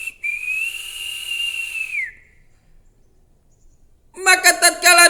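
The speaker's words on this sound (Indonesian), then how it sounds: "Tak terasa bibirnya pun bersiul." A sustained high whistle held steadily for about two seconds, followed by silence and then a voice.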